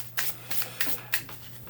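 Four quick rustling bursts of a Magic Lantern Sibilla deck being riffled together, evenly spaced and fairly faint, with a steady low hum underneath.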